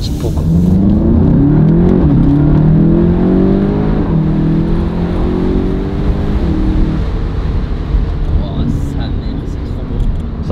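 Volkswagen Golf 7 GTI TCR revving hard on acceleration, a loud engine note climbing through the gears with a throaty, sustained roar close to the microphone.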